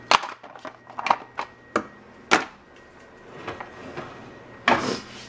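Several sharp wooden knocks and scrapes, like a drawer being slid and bumped, come in irregular bursts close by, with quiet pauses between.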